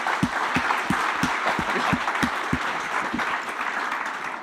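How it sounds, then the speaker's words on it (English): An audience at a big data industry forum breaks into steady applause, dense overlapping claps continuing evenly at moderate loudness with no speech over them. "So big applause, Thomas in representation of the board"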